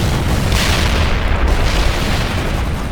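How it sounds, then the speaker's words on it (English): Loud, sustained roaring rumble of a missile launch and blast in the video game World in Conflict, a dense wash of noise lasting several seconds with a brighter surge partway through, and no voices. "Fire the missile!"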